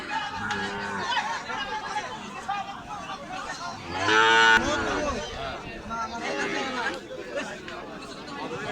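Cattle moo at a busy livestock market for Eid sacrifice animals, with small red local cows on sale; one loud, drawn-out low moo stands out in the middle, with chatter and crowd noise running underneath throughout.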